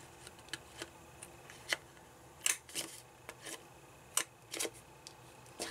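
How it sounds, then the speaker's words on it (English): A Project Life corner punch rounds the corners of a paper piece for an Urban Underground gift card holder, giving a series of sharp, close clicks and crunches at irregular intervals with handling rustle in between. "I'm going to go ahead and grab my Project Life corner punch, and I'm going to round each of the corners on this piece"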